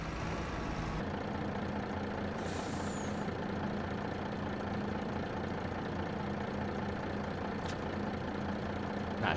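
A tractor engine idles in Farming Simulator 25, a steady low rumble held throughout, with a short hiss near the start and no talk over it.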